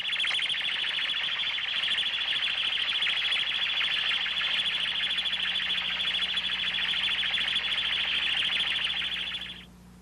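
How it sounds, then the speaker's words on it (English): Steady high-pitched electronic warble tone from an ultrasonic tone generator used during a heat exchanger inspection, continuous and fairly loud for about ten seconds before it abruptly stops. "reduce the warble tone generator's amplitude while scanning for these differences"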